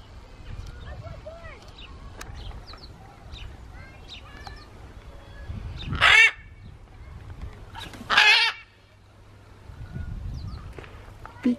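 Two loud, harsh squawks from parrots at a zoo ring out a couple of seconds apart over constant background noise and distant chatter.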